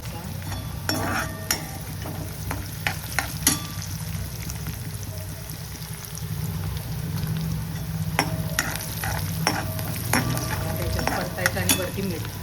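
Leftover rice stir-fried in a pan with onion, cumin, mustard seeds and turmeric, a steady sizzle broken by repeated scraping spatula strokes and metal clinks, with occasional low talk nearby.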